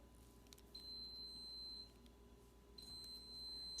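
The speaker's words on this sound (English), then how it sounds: "Sorry about the beeping." Two high electronic beeps, each held about a second, sound with a pause between them over a quiet room hum.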